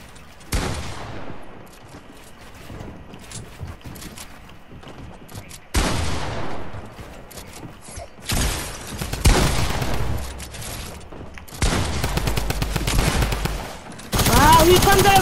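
Video game shootout with repeated bursts of loud automatic gunfire, separated by short quieter gaps, growing denser and more sustained toward the end.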